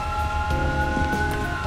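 An ambulance siren in the video game GTA 4 wails loud and steady with a sustained tonal sweep, accompanied by faint background thumps.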